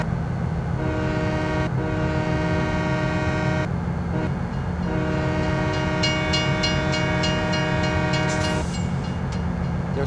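A train rolls past a level crossing in Farming Simulator 2017, its loud steady rumble carrying a sustained horn blast that cuts off and then sounds again, with a ringing crossing bell toward the end.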